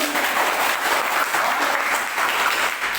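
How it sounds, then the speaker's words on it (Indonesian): Classroom applause during a mathematics lesson, a steady, dense wash of many students clapping together at an even, fairly loud level throughout. "terima kasih tepuk tangan"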